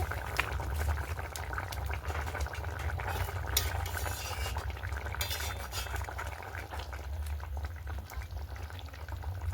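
A crab, eggplant and potato curry boils steadily in a pot, with a continuous close bubbling and occasional clinks of a utensil stirring, and no talking.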